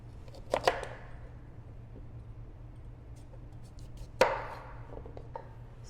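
A knife chops through raw yuca (cassava) on a cutting surface in a home kitchen, giving two sharp, close thunks a few seconds apart over a low background hum.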